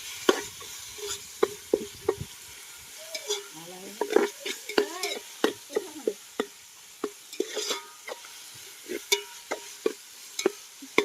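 Curry leaves frying in hot oil in a pan, a crackling sizzle broken by repeated sharp clinks and scrapes of a spoon stirring against the metal, some stirs coming in quick bursts.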